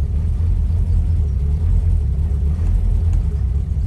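A 1965 Triumph Herald 1200 engine idles slightly erratically, a steady close low rumble with an uneven pulse and no speech over it.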